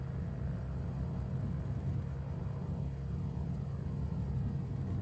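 An aircraft taxis in Microsoft Flight Simulator, giving a steady, fairly quiet low engine rumble with no talk over it.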